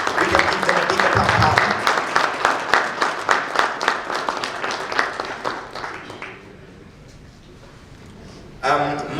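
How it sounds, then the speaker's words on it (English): Conference audience at an engineering, iron and steel industry event applauding as speakers take the stage; dense clapping for about six seconds that fades to quiet, then a brief burst near the end. "A round of applause as they take lead on the stage."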